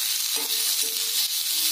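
Onions sautéing in a pan for Tamil-style onion chutney give a steady, close sizzle with faint stirring scrapes, alone and without talk.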